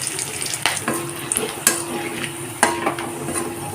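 Whole garam masala sizzles in hot white oil in a kadai, a steady fry noise broken by repeated sharp scrapes and clinks of a spatula stirring against the pan.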